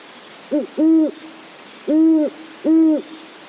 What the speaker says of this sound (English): this is, of course, a great horned owl.